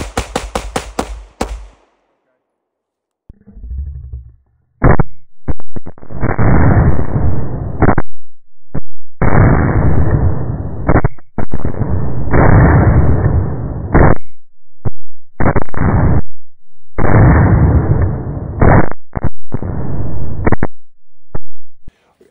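Gunshots in a shooting drill ring out as loud, harsh, distorted bursts in rapid clusters with short gaps between them, after a brief quiet start.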